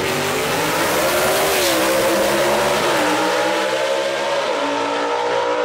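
Gasser drag race cars, one with a big block engine, launch down the dragway at Kil-Kare Dragway with a loud, sustained engine roar that climbs in pitch as they accelerate through the gears.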